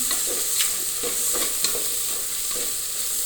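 Ginger garlic paste sautéing in a pan, a steady close frying hiss with soft scraping stirs recurring every second or so, no voices.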